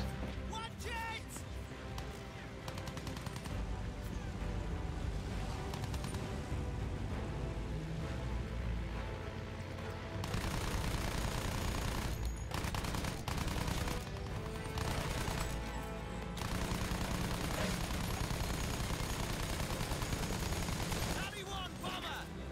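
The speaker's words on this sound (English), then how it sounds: "Shooting at us." Dense, continuous rifle and machine-gun fire rattles through a World War I battle in the shooter Battlefield 1, loud and sustained with overlapping bursts and heavy blasts.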